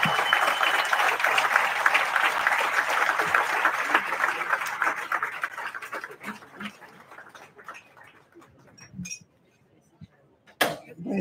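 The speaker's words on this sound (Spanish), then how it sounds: "Recibo los aplausos y se los envío con mucho cariño" Audience applause at a conference on electoral reform, a loud sustained clapping that thins out and fades over several seconds, ending in scattered claps and near quiet.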